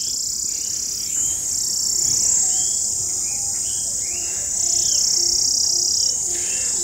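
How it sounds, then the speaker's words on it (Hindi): Koels calling back and forth in a squabble outdoors, short rising calls repeating at moderate distance over a steady bed of cricket chirring, with brief chirps from other birds. "देखा कोयल"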